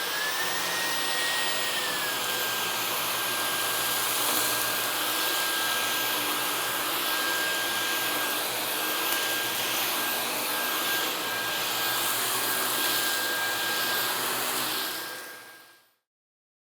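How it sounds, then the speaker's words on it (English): A Dyson cordless vacuum cleaner runs steadily, picking up pet hair, cereal and sand from a floor, a loud constant whine and rush of air with no talk, then powering down at the end. "Let's do some vacuuming."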